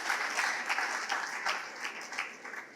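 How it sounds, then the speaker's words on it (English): Conference audience applauding in a hall, a steady wash of many hands clapping at moderate distance for a few seconds without talk. "I would like to ask you to clap again for"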